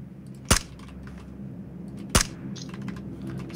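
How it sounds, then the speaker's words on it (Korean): Two sharp gunshots ring out in the video game PUBG Battlegrounds, spaced about a second and a half apart, each a loud crack above a quiet in-game background. "아, 총소리 들었겠다."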